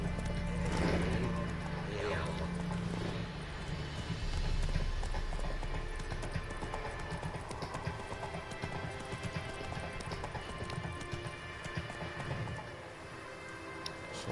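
Roach, Geralt's horse in The Witcher 3, gallops with steady hoofbeats through the whole stretch over a dense, continuous game soundscape, with a faint neigh near the start.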